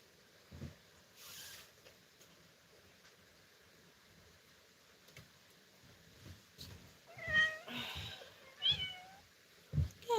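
A pet cat at home at bedtime, giving a few short meows with soft rustling between them, loudest near the end.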